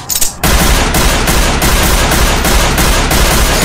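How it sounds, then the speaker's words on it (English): Loud, rapid gunfire erupts after a brief moment, a sustained burst of shots in a fast, regular rhythm, very close and dense, in a game. "Gunshots over there."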